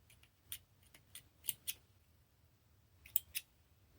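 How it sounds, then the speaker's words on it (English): Scissors snip through the edges of faux fur and sherpa fabric in short, crisp cuts, some in quick pairs. The snips are spread over a quiet background, with a pause in the middle and no talking. "So now I need to trim off these edges"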